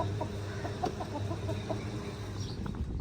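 Chickens clucking in short, scattered bursts over a steady low hum, fairly close, with no voices.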